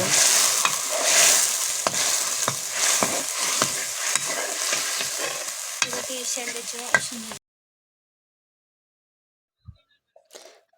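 Vegetables fry in a pan for a Nepali curry, a close, busy sizzle broken by repeated stirring scrapes for about seven seconds before it cuts to near silence with a couple of faint knocks.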